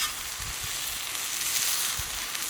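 Fresh cut tomatoes frying on a hot saj, giving a dense, steady sizzle with a few low soft thumps underneath and no talking.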